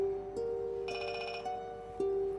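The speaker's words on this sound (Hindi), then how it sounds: "फोन बज रहा है।" A phone ringtone plays steadily, a repeating electronic melody with a brighter high-pitched chime layered in partway through, fairly close and clear.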